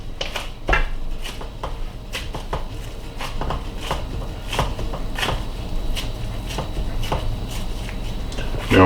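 Barbecue meatloaf mixture is plopped into a loaf pan and pressed into shape, with soft dull thuds and scattered clinks of the pan in a kitchen, fairly close and steady throughout.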